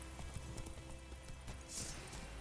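Hoofbeats of the horse Roach in The Witcher 3, a steady clip-clop of galloping hooves running continuously at moderate loudness, with a brief brighter swish partway through.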